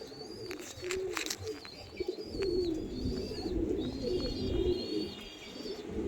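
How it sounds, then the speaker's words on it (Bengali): Andhra pigeons in a loft coo in a low, steady murmur, with a few brighter chirps and calls rising above the rolling hum at moderate volume. "দেখেন পায়রা এখন কুরুশে আছে"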